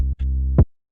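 A short, booming kick drum sound that cuts out briefly and restarts, giving a stuttering double hit before decaying into silence.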